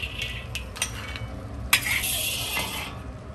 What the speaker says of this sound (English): shut off the flame and take them out of the wok